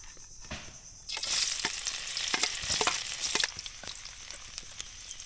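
Ginger frying in a pan, a steady close sizzle that swells as the ginger goes in, with occasional sharp crackles and utensil scrapes and no talk.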